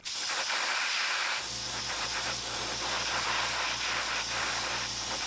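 An airbrush sprays light brown paint onto a fishing lure with clear plastic wings, a steady close hiss that starts abruptly and runs unbroken for several seconds with a faint low hum underneath.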